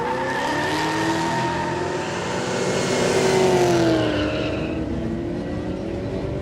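Two drag racing cars, the Stag and the VF, launching side by side at a no-prep street drag event, engines roaring and rising in pitch with tire squeal, loud and sustained.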